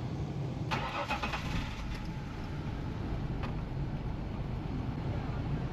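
A high-mileage car with about 275,000 miles and misfires cranks and catches, then runs at a steady, rough idle nearby, with a few brief metallic clicks early on.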